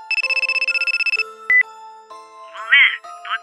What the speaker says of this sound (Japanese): しばらくすると T 君の携帯に着信